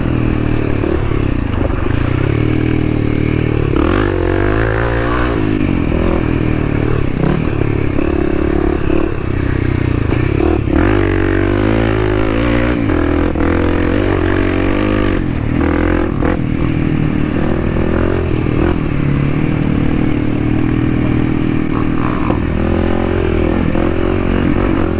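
Kawasaki KLX 300 dirt bike ridden on the Pinnacle trail system of the Hatfield McCoy Trails, its single-cylinder engine droning loud and close throughout with repeated revs and throttle surges, plus clattering and scraping from the rough trail.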